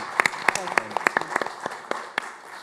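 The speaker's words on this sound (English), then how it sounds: "she deserves a big round of applause" A conference audience claps at a meeting, scattered individual claps ringing out fairly close while a soft wash of more distant applause runs underneath, thinning out toward the end.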